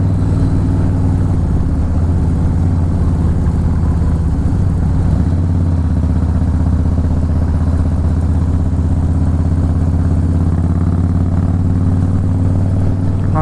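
A Harley-Davidson motorcycle engine cruises with a loud, steady, deep rumbling throb heard close up, its low pulsing drone running unbroken throughout.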